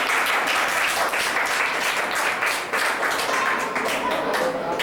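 Audience clapping at a school prize ceremony, a loud dense burst of many hands with some distinct nearby claps standing out and voices talking underneath.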